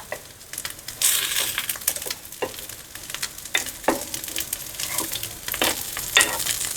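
Sweet corn patties bound with cornflour fry in a pan with a strong, close sizzle, broken by sudden louder bursts and scrapes as they are turned over, then settling back into steady crackling.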